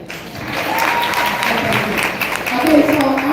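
An audience at a motivational women's event applauds a speaker, steady close applause filling the moment, with a voice rising briefly near the end.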